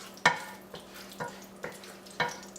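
Olive oil heating in a hot pan on slightly above medium-high heat, a soft sizzle under a few sharp, spaced clicks and scrapes from a utensil, close and fairly quiet.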